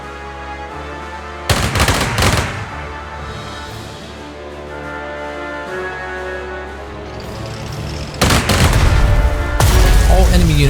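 Artillery firing on enemy units in the strategy game Strategic Mind: Blitzkrieg: three heavy, booming bursts, one early and two close together near the end, over a steady background music bed.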